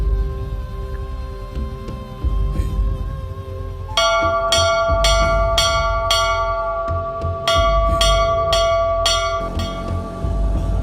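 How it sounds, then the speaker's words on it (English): Church bells ring out across Pitcairn Island, first sparse strikes and then a loud, regular peal of repeated clanging bell strokes carrying over a low outdoor background, with no voices. "when one does, bells ring out across the island to let the islanders know they have"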